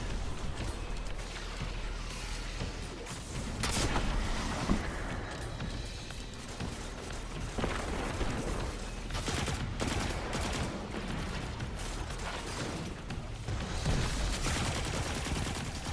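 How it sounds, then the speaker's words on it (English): Skiff turrets and weapons firing during a Destiny 2 Grandmaster strike, a dense, continuous barrage of shots and blasts that keeps up over the whole stretch with a sharp crack every few seconds. "those skiff turrets do hurt if you do not take them out"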